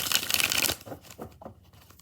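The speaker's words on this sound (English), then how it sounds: "5 shuffles for Ash Ronnie." Tarot cards riffle briefly in a close flutter that stops after a moment, followed by a few soft papery taps and slides as the deck is squared.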